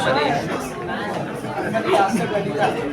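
Steady murmur of many voices fills an outdoor crowd at the Chhatrapati Shivaji Maharaj Park arts festival, a dense, continuous chatter with no pauses, close and fairly loud throughout.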